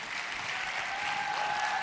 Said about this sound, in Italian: Ed ora siete tutti pronti per gli applausi?